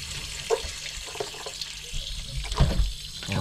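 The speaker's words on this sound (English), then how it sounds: "I'm gonna let the water drain in this bucket." Water draining from a commercial-grade gas water heater tank into a bucket holding a submersible pump, an uneven close splashing and gurgling with a few louder sloshes.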